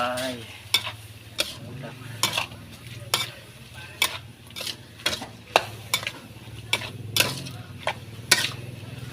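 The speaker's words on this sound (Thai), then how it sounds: "พอเดือดแล้วก็พริกแกงเดือดก็ใส่ปลาไหลลงไปนะครับ" Chunks of eel stirred into bubbling red curry paste in a pan for a spicy Thai stir-fry, with a steady sizzle broken by repeated sharp scrapes and clacks of the utensil against the pan.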